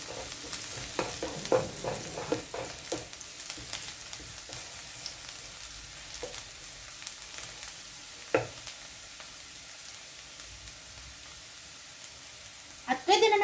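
Garlic sizzles as it browns in a frying pan for picadillo, a steady low crackle broken by scattered scrapes and clinks of stirring, with a louder clatter near the end.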